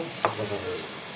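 A paste of ground melon seeds, poppy seeds and cashews dropped into a hot pan, giving a brief soft plop and stir over a steady, close sizzle of frying.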